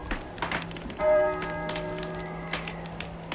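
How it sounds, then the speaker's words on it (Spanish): A church bell tolls once with a long humming resonance, surrounded by scattered knocks and taps, moderately loud and close. "Las campanas doblan."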